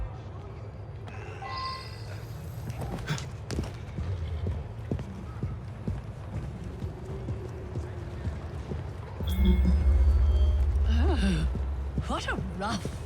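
Horse hooves clip-clop steadily in Assassin's Creed Syndicate, a close rhythmic trot over a rumbling street ambience that swells louder partway through, with brief voice sounds.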